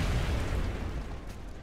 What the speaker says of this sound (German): wenn wir das hier zum Explodieren bringen, beides, dann könnte dem das einigen Schaden zufügen